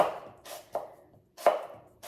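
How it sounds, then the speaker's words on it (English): A knife hand-chopping napa cabbage on a cutting board, with several crisp, uneven chops in an irregular rhythm, close and clear, with no voices. "I like kind of the roughness of just hand chopping it"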